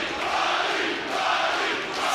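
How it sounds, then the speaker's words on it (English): A packed arena crowd on its feet at a live fight event roars in a steady, dense wall of cheering, loud and continuous with no breaks. "They are on their feet. They are cheering."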